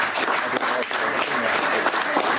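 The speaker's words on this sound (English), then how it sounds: "There's applause just going on and on here." Sustained audience applause after a popular song at The Yowl 'N' Howl, a dense, steady wash of many hands clapping at close range with no pauses across the whole stretch.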